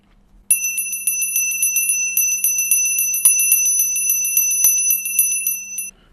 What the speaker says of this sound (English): I will be ringing this bell from time to time tonight